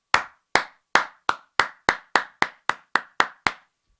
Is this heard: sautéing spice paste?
no